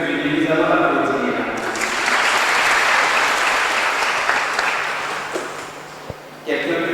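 A church congregation at a cathedral confirmation mass breaks into loud, sustained applause. It swells quickly, holds for several seconds, then thins out, with voices speaking before and after.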